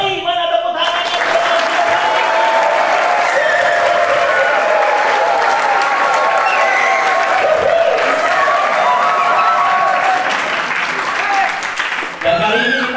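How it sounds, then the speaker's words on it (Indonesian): Loud applause from a church audience at GBI Rock Lembah Pujian in Bali, sustained clapping with cheering and crowd voices for about twelve seconds before stopping abruptly. "Mana tepuk tangannya?"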